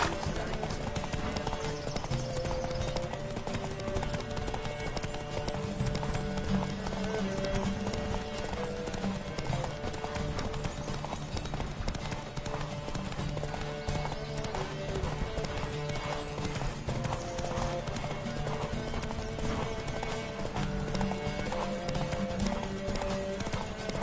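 Steady, rhythmic hoofbeats of a galloping horse in The Witcher 3: Wild Hunt pound continuously over a dense layer of game music, with no pauses throughout.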